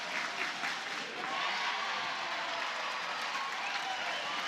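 A crowd at a college softball game in Norman, Oklahoma claps and cheers in a steady, even wash of applause from a distance, holding at one level throughout.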